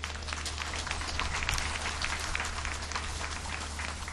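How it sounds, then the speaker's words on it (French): Crowd applause at an outdoor inauguration ceremony for large public works, a dense rain-like patter of clapping over a steady low hum. "Applaudissons pour elle."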